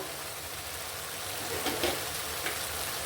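Ground spices and turmeric frying in oil in a meat curry pot, a steady soft sizzle throughout with a few brief louder crackles and stirring scrapes near the middle and end, no voices.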